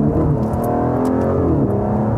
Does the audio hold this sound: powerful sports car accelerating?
yes